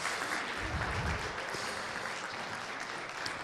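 Audience applause at a startup competition prize announcement, a dense, steady wash of many hands clapping from a crowd, with no pauses throughout.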